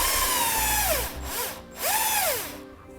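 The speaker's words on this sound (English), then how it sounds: "So we can grab a Phillips screwdriver or bit and pull that out." A power drill backs a Phillips screw out of a 2017 Nissan Rogue panel in two whirring bursts that rise and fall in pitch, with a short pause between, loud and close.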